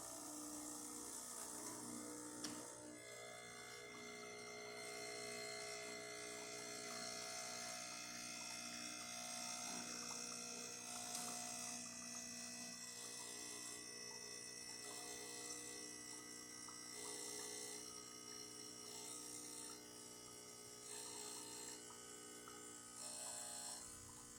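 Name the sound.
Bezzera BZ13 espresso machine pulling a shot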